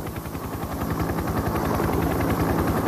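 A helicopter flies high over a German test base, its rotor beating in a fast, even chop that stays steady and fairly loud for the whole stretch, with no talking.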